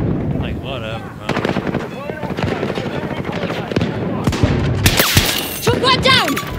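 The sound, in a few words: gunfire in the video game Battlefield 2042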